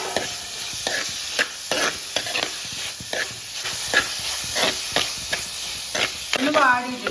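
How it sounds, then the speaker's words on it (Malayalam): Tomato, green chilies, curry leaves and ginger sauté in a pan for crab curry, with a steady sizzle and repeated stirring scrapes at a regular rhythm, close and fairly loud, with no talk. "നമുക്ക് തക്കാളി, ഒരു തക്കാളി, 2 പച്ചമുളക്, കുറച്ച് കറിവേപ്പില, കുറച്ച് ഇഞ്ചിയെ ഇതെല്ലാം കൂടിയിട്ട് നമുക്കൊന്ന് നല്ലോണം പിന്നെ വാട്ടിയെടുക്കാം."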